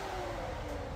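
A blown small-block Chevrolet V8 in a Holden HQ one tonner runs at a steady, loud idle with no exhaust fitted, after five years without running. A raw, continuous mid-range drone holds throughout.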